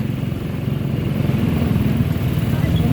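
A motorcycle engine running close by in street traffic at a public market in Cataingan, Masbate, a steady low putter under a continuous bed of traffic noise.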